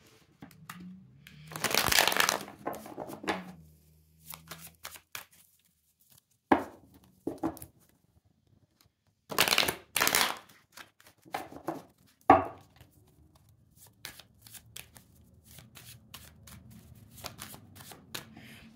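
A Thoth tarot deck being shuffled by hand in several separate bursts of riffling and card slaps, close and fairly quiet, with short pauses between rounds.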